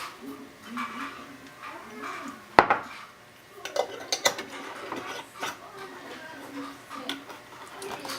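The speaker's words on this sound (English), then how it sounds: "Fit the pan into the bread machine." A bread pan is fitted into a bread machine with metallic clunks and clicks, one sharp knock near the middle and then a cluster of rattling mechanical clicks. A voice talks quietly underneath.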